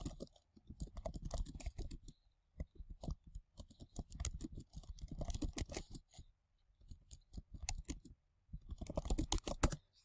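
Typing on a computer keyboard in quick bursts of close, crisp key clicks separated by short pauses, fairly quiet, with no talking.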